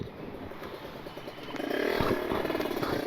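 An RR Siluman motorcycle running an open filter and freshly fitted exhaust revs up, a rough low engine rumble that climbs louder and grittier halfway through, close by with no talking.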